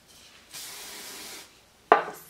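A short, soft hiss of hairspray misting onto a hair brush, lasting just under a second, followed after a pause by a brief sharp tap of the brush being handled.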